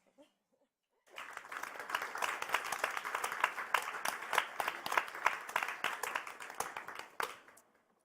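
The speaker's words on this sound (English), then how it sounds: "I want another round of applause, but this time for all of you" An audience at a cultural-sector sustainability event (ArtCOP21) bursts into warm applause that lasts about six seconds, swells, and then tapers off after a brief quiet lead-in.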